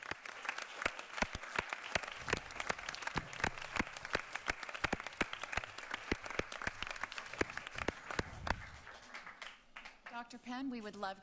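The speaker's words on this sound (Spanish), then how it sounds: "un aplauso" A standing ovation at a county commissioners' board meeting: close, crisp clapping from a modest group, with distinct individual hand claps for about nine seconds before a voice begins speaking.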